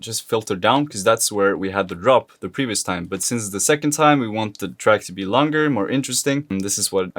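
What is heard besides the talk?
None of the usual background noises is heard.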